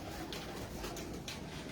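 Pigeons cooing in a loft or coop, a few soft throaty coos rising over a steady broadband background hiss, close and moderately loud.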